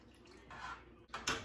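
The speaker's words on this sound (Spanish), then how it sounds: "Le vamos a poner poquita agua." Water is poured into a cooking pot while chile pasado, a traditional Chihuahua dish, is being made: a short hissing splash that swells, breaks off briefly, then resumes in a brighter burst, close by.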